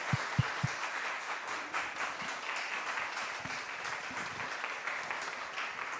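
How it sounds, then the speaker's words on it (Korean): An audience at a church preaching service applauds to welcome a missionary serving in Chad, with a few sharp close claps at first and then a sustained, fairly soft patter of many hands. "우리 박수함으로 함께 이 자리에 모시겠습니다"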